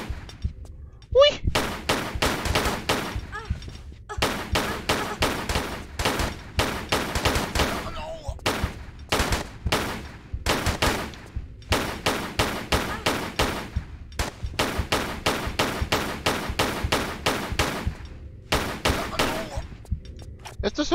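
Enemy gunfire in the video game Tomb Raider, custom level Church Tower, comes as repeated rapid bursts of sharp shots separated by brief pauses, loud and close, running steadily throughout.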